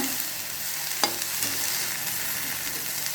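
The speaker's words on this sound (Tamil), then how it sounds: "வெண்டைக்காய் வதக்கிட்டோன்னா எண்ணெயில் வதக்கிட்டோன்னா பிசு பிசுப்பு இருக்காது" Okra (ladies finger) sautéing in oil for a South Indian vendakkai poriyal, a continuous close hissing sizzle with one brief clank of a utensil against the pan, no voices.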